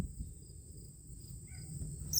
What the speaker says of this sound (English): there are a lot of crickets.